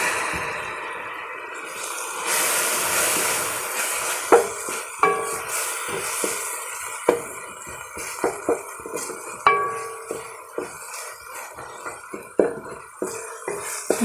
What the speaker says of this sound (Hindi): 3 से 4 मिनट तक मैं इनको पानी लगा कर थोड़ा थोड़ा मैं भून लूँगी, ताकि ये नरम हो जाए।